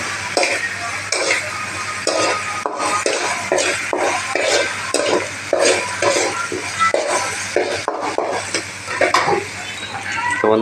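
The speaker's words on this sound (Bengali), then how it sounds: "আদা রসুন পেঁয়াজ একসঙ্গে সব ভাজা হয়ে গেছে" Onion with ginger garlic paste fries in a pan and is stirred, with a spoon scraping in quick rhythmic strokes over a crackling sizzle, near and fairly loud.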